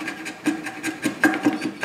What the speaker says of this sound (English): I cut and clean up the domino.